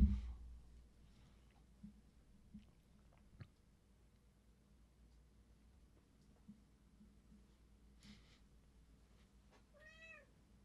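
A cat in a quiet indoor room, heard amid faint clicks and rustles, gives a single short meow near the end.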